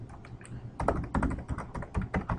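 Close, quiet keystrokes on a computer keyboard come in an uneven burst of taps as someone types in login details.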